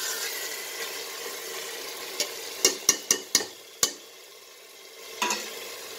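Mutton sizzles softly in oil while vegetables, beetroot and turnip, are added. A spoon then strikes the pan several times in a quick series of sharp clacks, followed by one more knock and renewed sizzling.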